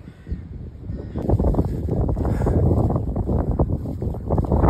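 Strong gusting wind on a coast-to-coast hike in England buffets the microphone, a loud blustery roar that swells and holds, with a faint thin whine in the background.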